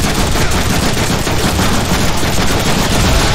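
Sustained, dense automatic gunfire from Cable's heavy gun in the Deadpool video game, a loud continuous rattle of rapid shots filling the whole stretch with no pauses.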